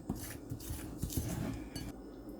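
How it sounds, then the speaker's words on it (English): Quick whisk scraping and clinking inside a bowl as a smooth cream cheese glaze is mixed for cinnamon knots, a steady busy rattle close by with no talk. "So I've whisked the glaze till it's pretty well smooth."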